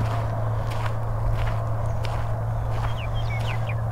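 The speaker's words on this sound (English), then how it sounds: "There's songbirds in every direction." Several small birds chirp and twitter at a distance over a steady low hum and faint rustling, with no one speaking.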